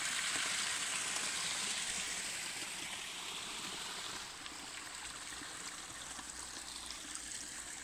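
A woodland stream flows steadily along a steep riverbank path, its broad rushing wash continuous and fairly even throughout, with no voices.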